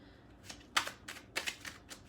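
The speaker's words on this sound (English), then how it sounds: "I just wanted to show you that I am shuffling them." Tarot cards are shuffled by hand close to the microphone, several crisp riffling bursts and soft flicks repeating in an uneven rhythm.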